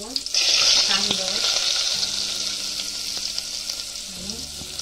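Four garlic cloves and onion hit hot oil in a pot with a sudden loud sizzle that settles into steady, softer frying, with a faint voice in the background.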